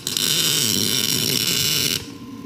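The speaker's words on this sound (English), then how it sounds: "That's the sound of a good weld." Welding a mounting plate for a go-kart live axle: a loud, harsh buzzing crackle held steadily for about two seconds before cutting off abruptly.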